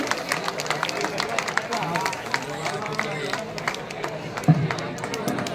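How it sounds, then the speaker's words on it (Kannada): An audience at an award ceremony during a temple chariot festival claps to honor an association president, scattered hand claps spreading through the hall beneath a speaker's ongoing talk and crowd murmur. "ತಮ್ಮೆಲ್ಲರೂ ಚಪ್ಪಾಳೆಯೊಂದಿಗೆ ಗೌರವಿಸಬೇಕು ಅಂತ ಕೇಳ್ಕೊತಾ ಇದ್ದೀನಿ."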